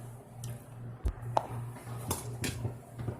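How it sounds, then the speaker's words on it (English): A metal spoon clinks and scrapes as homemade stuffing is packed into a whole turkey, giving a few sharp taps and soft squishy pushes over a low steady hum, close by with no talking. "You use a spoon for this and just stuff it in there"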